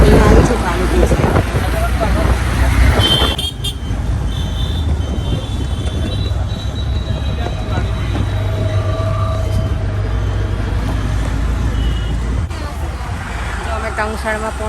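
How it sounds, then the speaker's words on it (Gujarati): A steady, loud rumble of trains fills Kalupur railway station, a continuous heavy roar with brief metallic squeals, while people talk nearby. "જો કાલુપુર રેલવે સ્ટેશન આવી ગયું છે"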